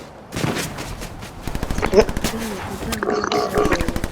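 Gunshots in a video game crack out as a few sharp reports mixed into a busy game soundscape, heard under steady talking from players.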